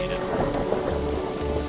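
Steady rain falls in The Darkside Detective video game as its detective stands on a rooftop at night, a dense, even hiss with low rumbling beneath, continuous and close, with a brief spoken phrase over it.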